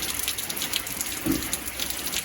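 Heavy rain falling steadily on a dreary rainy day, a continuous rushing patter with occasional louder drops and a brief low thud partway through, heard on its own with no talking.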